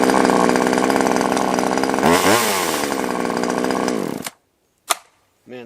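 An arborist top handle chainsaw, started with the chain brake on, runs at a loud steady idle, revs up briefly, then cuts off, followed by two short clicks or bumps.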